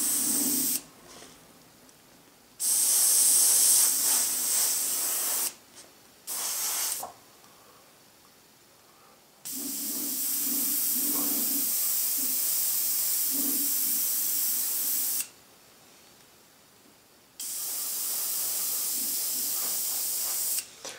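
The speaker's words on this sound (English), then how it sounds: "So what's happening is there's overspray that's actually colouring the seam." An airbrush sprays paint along the seam of a model shuttle in several bursts of close, steady hiss, separated by short pauses, with no talking.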